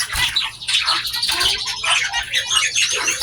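Zebra finches in an aviary chirp and squawk in a dense, busy chorus of overlapping high calls, loud and close with no pauses.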